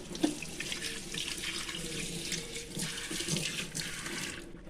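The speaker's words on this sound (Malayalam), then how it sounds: "വെള്ളം പോകുന്നുണ്ട്" A tap runs steadily into a sink, a continuous splashing hiss at moderate volume with small shifts in the flow and no talking.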